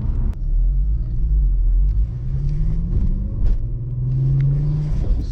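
A Volkswagen Jetta wagon with a 12-valve VR6 engine revs in second gear, a deep, loud rumble rising in pitch, easing off and climbing again, heard up close with no talk.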